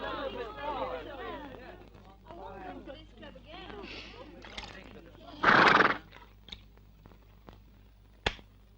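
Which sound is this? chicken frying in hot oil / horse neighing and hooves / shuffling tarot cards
horse neighing and hooves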